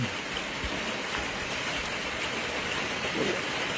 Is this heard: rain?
yes